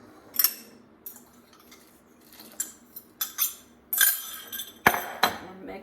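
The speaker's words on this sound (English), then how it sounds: "And you keep mixing. Stir that around." A utensil stirs beaten eggs into a mint soup broth in a pot, giving scattered light clinks and scrapes in an irregular rhythm, close and fairly quiet.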